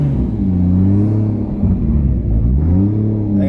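A car engine running steadily in a driveway with a deep rumbling hum that rises and falls slightly as it is revved, close and loud with no talking.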